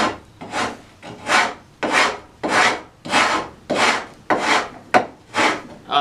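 A freshly sharpened metal file rasps across a piece of lumber in nine steady strokes, each a gritty scraping burst with brief pauses between, close and fairly loud with no talking.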